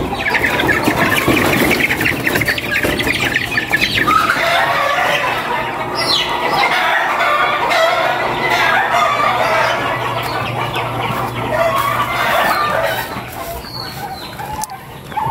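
A flock of chickens on a farm in Unisan, Quezon, clucks and squawks continuously, loud and close, forming a dense, steady farmyard din with scattered sharper calls.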